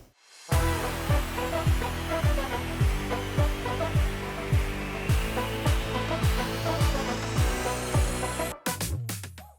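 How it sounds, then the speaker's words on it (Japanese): A small angle grinder works on rust on the floor panel of a classic Nissan Skyline "Hakosuka" under restoration, giving a loud, steady high whine with rhythmic pulses that runs for most of the clip before a brief stop and restart. "こっちは普通のベビーサンダーなんですけど、 錆を落として、あと塗装のキュートマークを剥がしたりするために今使ってるんですけど"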